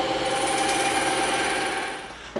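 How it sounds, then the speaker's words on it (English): A bandsaw slices through one-inch EVA foam, a loud, continuous motor whine and blade hum that stays steady, then tapers off near the end with a small knock. "We're going to cut this out on the bandsaw."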